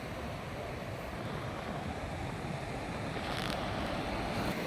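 Ocean waves wash steadily onto Hamsaladeevi beach, a continuous broadband surf roar with wind buffeting the microphone throughout and no voices.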